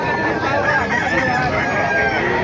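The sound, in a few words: Hennie gamefowl rooster crowing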